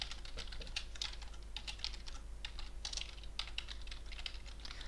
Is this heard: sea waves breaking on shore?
no